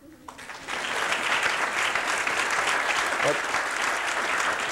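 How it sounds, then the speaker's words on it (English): Audience applause at a public discussion on government and the economy breaks out after a brief quiet start and holds steady, a moderately dense, continuous clatter of many hands with a faint voice briefly under it. "it produced a scattering of applause"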